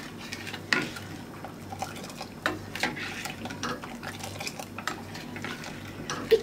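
A spoon stirs sugar into milk boiling in a pot for oven rice pudding, with soft scraping and clinking over a low bubbling hiss, fairly quiet and close.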